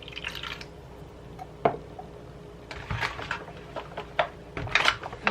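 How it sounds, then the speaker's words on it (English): Water poured into a baking pan of turkey wings gives close, sporadic splashes and drips in short bursts over a quiet kitchen background. "I'm going to pour the rest of the water in"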